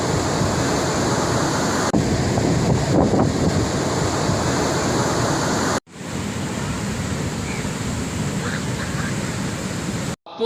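Strong monsoon sea waves crash onto a beach in a loud, unbroken roar of surf and wind that fills the whole clip, with two brief abrupt breaks and no talking.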